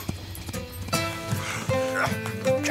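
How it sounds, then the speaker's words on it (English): Cartoon horse hooves clip-clop in a rhythmic series of hollow knocks under a busy music score in an animated Zorro episode, moderately close and steady. "A horse?"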